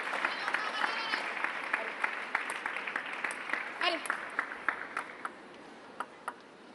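Players and spectators at a table tennis mixed team world cup match applauding a rally, scattered claps over crowd noise and voices, thinning to a few isolated claps toward the end.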